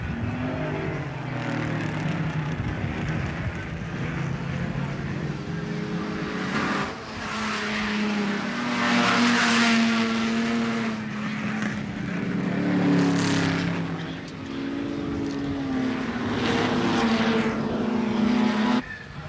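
Touring race cars, including a Ford Falcon GTHO and white Chargers, roar around Warwick Farm circuit in 1972, engines howling and rising and falling as cars pass at a distance under a steady crowd-and-track wash.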